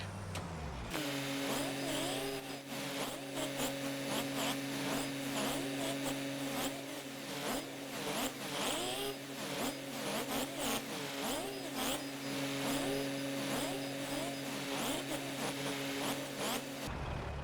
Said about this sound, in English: I'm gonna have to get in this truck